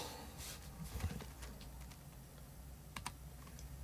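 A computer keyboard is tapped in a few sparse, soft keystrokes over a steady background hum while a Golf Clash game is played. A quick pair of clicks comes near the end.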